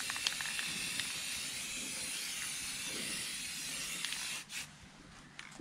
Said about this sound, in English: right now I'm going to just spray paint it with white